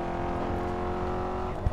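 A race car engine in the video game Grid 2 drones at a steady high pitch, with a slight tire squeal, heard briefly and continuously.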